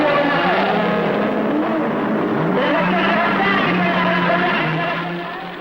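Racing cars fire up and roar away together at a 1950s Le Mans-style start, a dense loud wall of engines with rising revs as they pull off, fading slightly at the end.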